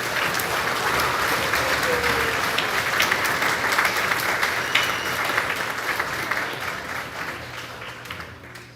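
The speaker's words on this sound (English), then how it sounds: "Give them a round of applause, please." A crowd applauds steadily and loudly at a school awards ceremony for grades 4-6, the dense clapping holding for several seconds before slowly tapering off.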